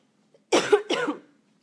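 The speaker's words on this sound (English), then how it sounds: "Sorry, a bit of cough." Two quick harsh coughs in close succession, close and clear against a quiet room, after a faint short sound.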